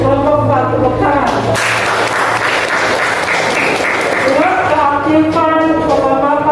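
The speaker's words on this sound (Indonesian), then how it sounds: "kelompok 4 tepuk tangan." A school class breaks into a burst of hand clapping for a student group, loud and close for a few seconds, while voices talk before and after it.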